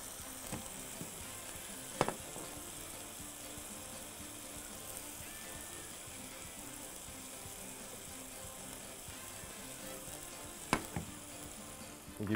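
Butter heating in a pan with hash browns, a quiet steady sizzle and crackle throughout, punctuated by two sharp clinks or taps from a utensil, with no speech.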